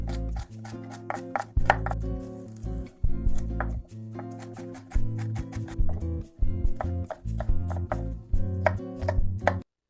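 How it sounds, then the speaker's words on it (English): Carrot, celery and onion being cubed on a cutting board, a rapid run of close, crisp knife chops in uneven bursts with short pauses, and nobody talking. "So we will just cube it evenly."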